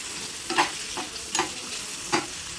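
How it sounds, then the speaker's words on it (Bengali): Garlic and onion sizzle in a pan, stirred with a utensil that scrapes in three or four distinct strokes over a soft, steady frying hiss. "রসুন পেঁয়াজগুলো দিয়ে দিলাম, এখন এগুলো একটু ভেজে নিব আমি।"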